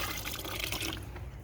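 Water is poured into a container holding biochar for garden activation, a steady close splashing fill lasting about a second before tapering off.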